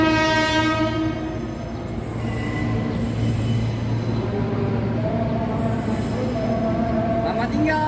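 A JR 203 series electric train passes close by, its horn sounding at the start over a steady rumble of wheels on rail, with faint wheel squeal.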